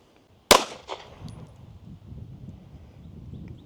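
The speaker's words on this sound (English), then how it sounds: "Let's go back to shooting our last 10-shot group." A single sharp gunshot cracks out loud and close near the start while a 10-shot group is fired, followed by a fainter echo or second report and a low rumbling background.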